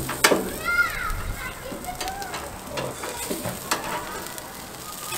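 Seasoned küşleme lamb tenderloin sizzles in a hot pan as it is flipped, a steady frying crackle with a few sharp clicks, and a person talks over it.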